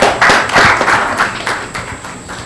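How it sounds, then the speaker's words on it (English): Brief applause from a conference audience at a morning meeting session, a short burst of clapping that fades within a couple of seconds. "A round of applause for Cedric,"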